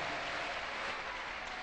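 A church congregation applauding and cheering in joyful acclamation, a steady dense wash of clapping that fills the whole moment with no break.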